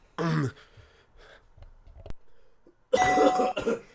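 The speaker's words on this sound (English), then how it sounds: "Oh, now you do the little cough." A single short cough sounds early, followed by a quiet pause and then a longer burst of throaty noise like throat clearing.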